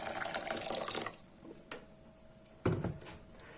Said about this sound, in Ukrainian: І зараз залью окропом.